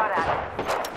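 Gunfire in the video game Apex Legends, a brief, dense burst of rapid shots heard up close over about one second.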